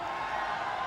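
A strongman competition crowd at the 2004 Arnold Classic keeps up a steady wash of cheering and roaring, dense and continuous with no single voice standing out.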